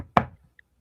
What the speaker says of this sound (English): All of a sudden you hear a knock at Aaron's door.